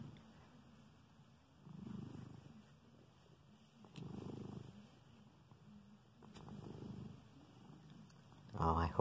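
Nigel the cat purrs loudly in close, rumbling bursts that swell and fade roughly every two seconds, with a soft voice nearby between the purrs.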